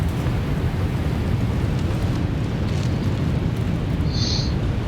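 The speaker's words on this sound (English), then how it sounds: "I like the way this waterfall sounds." A video game waterfall gives off a dense, steady rushing roar of water, loud and unbroken throughout without pause.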